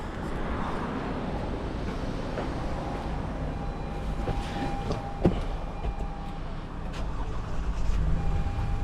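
A 2020 Toyota Sienna with a crank-no-start fault cranks and catches, then idles with a steady mechanical drone. A sharp click lands midway, and a faint whine runs through the middle.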